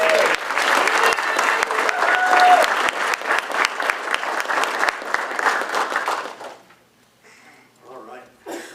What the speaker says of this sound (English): One more round of applause for Jessica.